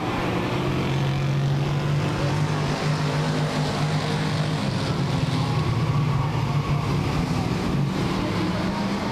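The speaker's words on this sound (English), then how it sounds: "5 cars continue to dice it out for the lead" Stock cars racing at Claremont Speedway in 1996, a steady, dense engine roar from several cars running together, continuous and loud throughout with no clear pauses.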